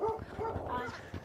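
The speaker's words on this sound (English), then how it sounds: "That's my dog." Small dog barking and yipping in quick bursts close by, heard during a live game stream with voices chatting underneath.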